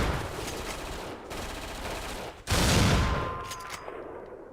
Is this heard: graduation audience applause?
no